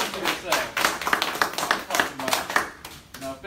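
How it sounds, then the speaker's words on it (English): Audience clapping at a speckled trout fishing seminar: a lively burst of many hands, uneven and slightly choppy, loud and close throughout. "give yourself a round of applause for that"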